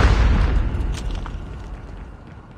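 A frag grenade detonates in a Call of Duty match, a heavy low boom that opens loud and then rumbles and decays over a couple of seconds, with faint game noise trailing behind.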